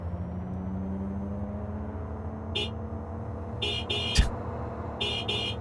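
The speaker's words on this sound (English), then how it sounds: "Okay, that honk is ridiculous." A car horn in the video game Cyberpunk 2077 honking in several short buzzy blasts over a low idling engine hum, with a brief thump in between.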